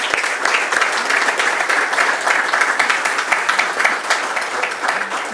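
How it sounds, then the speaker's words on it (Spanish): Sustained audience applause fills a formal hall at a Spanish-language book presentation event, dense and steady clapping from a large crowd throughout, with no talk over it. "los aplausos"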